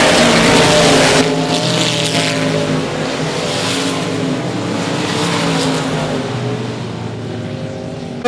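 Race cars roar around the oval at 105 Speedway in a loud, continuous engine drone, several machines overlapping as they sweep past, the pitch shifting with each pass and a brief burst of extra intensity in the opening second.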